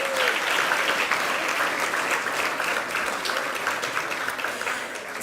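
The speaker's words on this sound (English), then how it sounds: "So can you please give yourselves a round of applause?" A hall full of people at a university awards ceremony applauds themselves, steady dense clapping heard throughout at an even, lively level.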